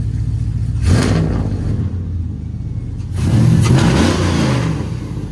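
A Chevrolet Silverado or GMC Sierra truck engine on solid motor mounts idles with a deep rumble, then revs hard twice, each rise swelling loudly before settling back.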